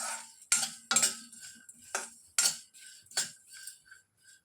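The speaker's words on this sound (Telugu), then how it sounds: "వీటిని బాగా దూరగా సిమ్లోనే పెట్టి వేయించుకోవాలి" A metal spoon scrapes and clinks against a pan as whole spices for a potato and drumstick curry are fried on low heat, with several sharp stirring strokes and short pauses between them, close up and without talk.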